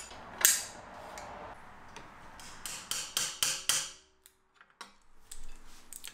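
An e-bike motor's inner locking ring is tightened against a fat-tire frame with rubber beneath, a run of sharp metallic taps and knocks, a few scattered and then a quick cluster, before near silence.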